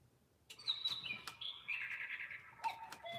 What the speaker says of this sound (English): I hear the bird.